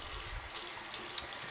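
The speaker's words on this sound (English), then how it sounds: "with the sink, I'm gonna start off with lukewarm water" Lukewarm water runs steadily from a sink tap, a continuous close hiss and splash with no speech, set up for washing natural hair extensions.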